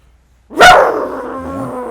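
A voice actor imitates an evil dog bark, giving one loud, close, growling bark that trails off into a low rumble after a moment of silence.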